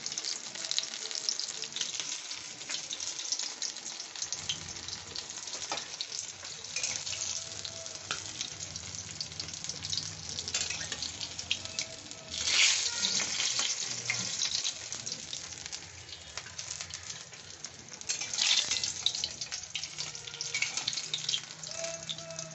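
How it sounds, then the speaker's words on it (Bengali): Fish oil fritters frying in hot oil give a steady, hissing sizzle with faint crackles that swell and ease through the stretch, and a voice briefly speaks. "এইরকম ভেজে আমি তুলে নিচ্ছি"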